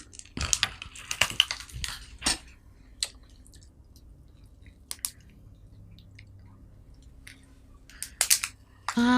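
Teeth bite and crack a hard, fresh lobster shell at close range, giving sharp, irregular crunches and snaps in bursts with quiet pauses between them and no talk.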